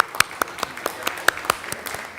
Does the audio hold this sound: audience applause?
yes